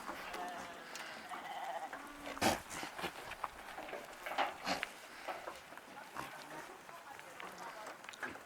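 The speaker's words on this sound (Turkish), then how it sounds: "keçi, koyunları, kuzuları, oğlakları gelmiş" Goats, sheep, lambs and kids bleat repeatedly while being fed by a Yörük herder in the Taurus Mountains, several animals calling near and far over a busy farmyard background with people talking under them.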